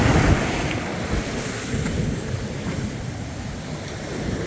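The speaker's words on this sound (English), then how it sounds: "It's pretty rough waves coming in today as well." Rough sea waves break on a beach near Seatown, a continuous loud wash of surf with wind buffeting the microphone and no voices.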